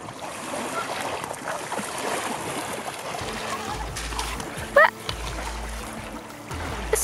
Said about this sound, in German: Meeresrauschen, Seerauschen oder so Wellen sind schon auch irgendwie beruhigend